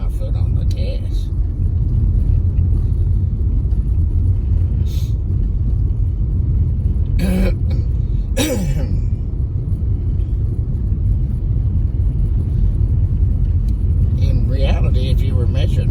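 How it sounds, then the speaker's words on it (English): Car cruising at about 25 mph with a light foot on the gas through a windy winter snowstorm; a steady, close low rumble holds throughout, with a few brief brighter swishes. "I'm cruising like at 25, and I just barely have my foot on the gas."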